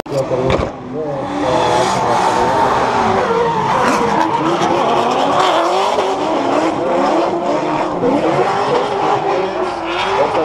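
Drift cars skid and squeal their tires at a top-16 drift competition in Estonia, with roaring engines and revving filling the whole stretch loudly and continuously, mixed with crowd noise and a commentator talking.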